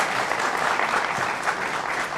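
An audience at a political comedy show bursts into brisk applause, many hands clapping in a dense, even wash with no voices, lasting a couple of seconds.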